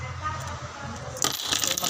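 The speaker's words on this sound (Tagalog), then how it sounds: "Dami kong barya guys." A handful of coins, one-peso pieces, clink and jingle in a hand, starting with a bright metallic rattle partway through after a quieter rustle, close and fairly soft.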